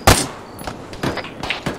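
Gunfire in the Arma 3 video game: a sharp close shot at the start followed by several duller, more distant reports spaced irregularly, no talking.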